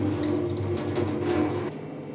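Drinking water poured into a cooking pot over split mung dal, a steady close splashing gush running for about two seconds and easing slightly near the end.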